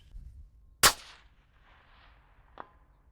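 A single loud, close rifle shot at a target, sharp and cracking with a short echoing tail, followed about two seconds later by a faint metallic ping from the steel target.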